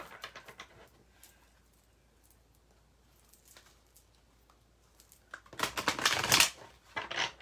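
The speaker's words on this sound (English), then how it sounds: "Getting a good shuffle here." Tarot cards are shuffled close by, starting with a few soft riffles, then a quiet pause, then louder, rapid flurries of shuffling near the end.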